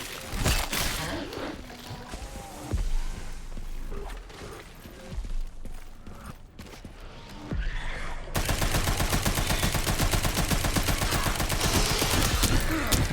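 Sustained rapid gunfire from a gun in Resident Evil Requiem fills the second half, a dense rattling burst following quieter scattered shots and game sounds.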